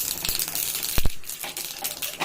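A spoonful of mustard seeds splutters in hot oil while a tempering for a chutney is made, giving a loud, close burst of irregular crackling pops with a couple of sharper snaps.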